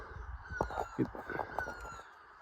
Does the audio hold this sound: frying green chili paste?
no